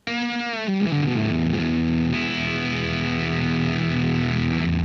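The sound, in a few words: electric guitar with edge-of-breakup amp tone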